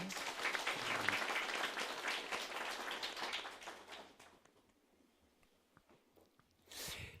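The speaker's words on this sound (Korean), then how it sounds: "여러분들 격려의 박수를." A church congregation applauds at a Sunday service, a brisk burst of clapping that fades out after about four seconds, leaving quiet room tone before a brief noise near the end.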